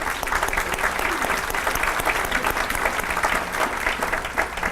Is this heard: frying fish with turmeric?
no